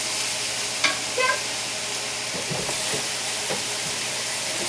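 Carrots, celery and onions being sautéed in a pan for chicken orzo soup, a moderate steady sizzle with occasional soft scrapes and taps of stirring.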